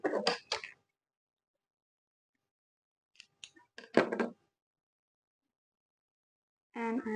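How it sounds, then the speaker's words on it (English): Scissors cut crochet yarn after a slip stitch, a few quick close snips in separate bursts with silence between them. "After making a slip stitch, I'm going to chain 1 and cut off the yarn."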